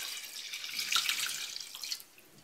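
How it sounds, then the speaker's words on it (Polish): Water pours steadily into a cooking pot in a bright, hissing stream for about two seconds, then cuts off, leaving quiet. "Zalewam wodą"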